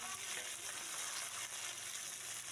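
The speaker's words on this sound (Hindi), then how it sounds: "और ये सरसों फोरन, ओकर बाद प्याज मिर्चा और मीठा पत्ती डाल देथन।" Mustard seeds, onion, chilli and curry leaves sizzle in hot oil, a steady, dense, close hiss with crackling texture and no voices.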